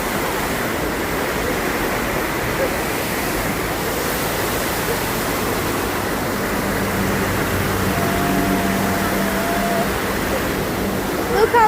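A water fountain at night splashes continuously like a waterfall, a steady broadband rush of falling water, close and constant, with faint voices in the background.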